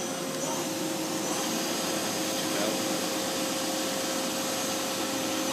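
A Daewoo Lynx 210A CNC lathe spindle runs at 1000 RPM, a steady, even whir with a constant hum and no pauses throughout.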